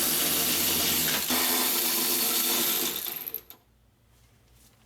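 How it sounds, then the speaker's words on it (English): Power tool whirring loudly as bolts are removed from a Honda Odyssey window regulator; a steady high-pitched mechanical buzz for about three seconds, then it winds down and stops, leaving quiet. "So we're gonna remove these two bolts down here first."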